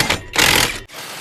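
A GTM IS18/320BL 18-volt cordless impact driver runs loud and close, giving a dense rattling whir in two bursts separated by a brief pause.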